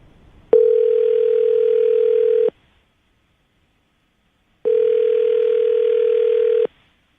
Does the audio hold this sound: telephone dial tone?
yes